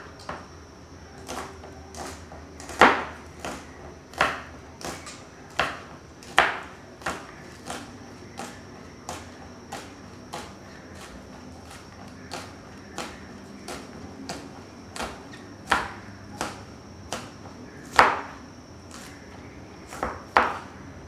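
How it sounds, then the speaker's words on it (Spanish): A kitchen knife cuts an onion on a cutting board, blade kept against the board, giving a steady series of crisp taps roughly every half second, some louder knocks among them, with no talk. "El corte utiliza todo el cuchillo, entonces funciona como un riel en el cual vos vas cortando y no separas el cuchillo de la tabla"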